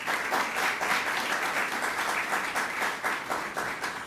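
Audience applause at a university gathering, a steady dense wash of many hands clapping at a fairly even level, with little talk audible.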